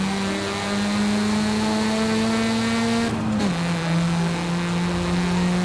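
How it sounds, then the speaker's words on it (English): A Mazda RX-7 rotary engine in Forza Horizon 5 drones with a steady buzzing tone that climbs slowly, cuts briefly as if on a shift, then settles at a lower pitch and keeps humming, clear and alone. "the RX-7, or any Rotary, always sounds so bad in Forza"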